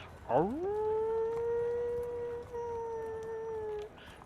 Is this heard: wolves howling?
yes